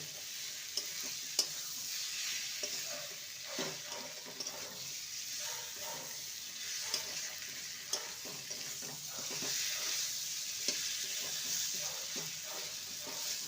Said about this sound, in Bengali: এবার ভেজে রাখা পেঁপে আর আলুটা দিয়ে দেবো ভালো করে মশলার সাথে কষিয়ে নেব